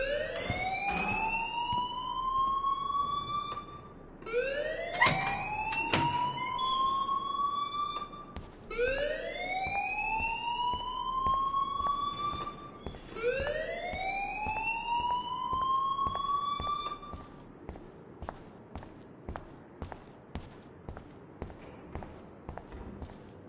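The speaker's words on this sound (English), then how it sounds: "please turn off that alarm since that's your job" An alarm in the Life is Strange video game repeats as a loud rising siren, four long upward sweeps in a row, then gives way to a quieter, rapid ticking rattle.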